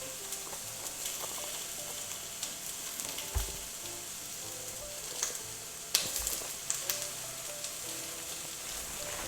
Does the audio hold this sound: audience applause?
no